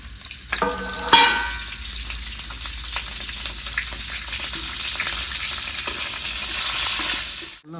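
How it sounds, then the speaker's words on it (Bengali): Onions fry lightly in the oil left after cooking okra, a dense close sizzle that swells steadily after a sharp clatter as they go into the pan, with a few stirring scrapes. "এই তেলে আমি পেঁয়াজটাও হালকা করে ভেজে নেবো।"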